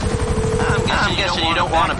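A helicopter in the video game GTA 5 whirs beneath bursts of talk, its rotor drone holding steady under overlapping game sounds and voices.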